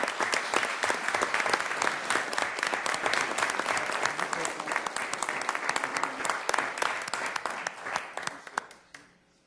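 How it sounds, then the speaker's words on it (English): Applause fills a city council meeting in Sioux Falls, a dense steady patter of many hands clapping close and loud, holding strong for several seconds before tapering off to quiet at the end. "A round of applause, please, for John Orr."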